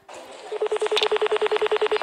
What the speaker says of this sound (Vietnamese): Gọi điện thoại cho người thân.